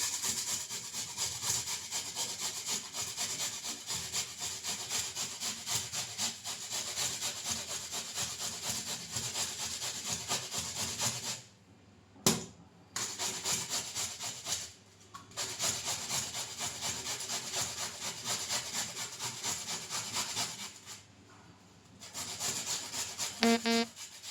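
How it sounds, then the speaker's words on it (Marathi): Potatoes grated by hand one after another, a steady loud rasping scrape that runs continuously with two brief pauses near the middle and another shortly before the end. "आता स्वतः हे बटाटे जे आहेत एक एक करून मस्त किसणार याच्यामध्ये"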